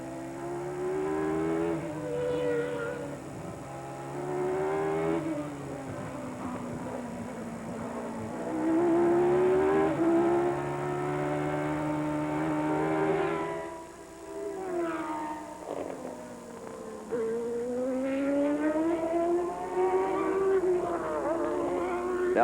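Formula 1 cars race at the 1990 Japanese Grand Prix, their engines whining and rising and falling in pitch as they pass, a continuous loud mechanical drone with shifting tones and no talk over it.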